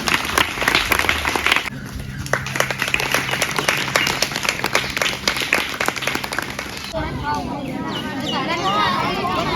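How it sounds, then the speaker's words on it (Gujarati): Loud, dense clapping from a crowd at a village Independence Day celebration, sustained and close, with voices and crowd chatter mixed in. "ત્રણેયમાં જોરદાર તાળીઓ થઈ ગઈ"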